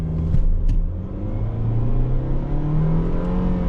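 A 2024 Mitsubishi Outlander SEL AWD accelerates hard from a standstill toward 60 mph, its engine droning and rising steadily in pitch as a loud, continuous rumble heard from inside the cabin, with no talking.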